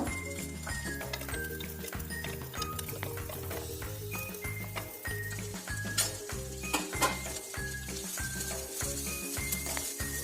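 Slit green chillies and chopped onion sauté in a pan, giving a soft continuous sizzle under repeated rhythmic clinks and scrapes of a spoon stirring against the metal, fairly quiet and close.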